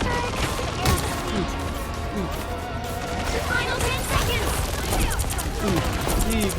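Gunfire in the hero shooter video game Marvel Rivals: dense, continuous rapid shots and impact bursts in a chaotic, loud battle mix, with voices mixed in.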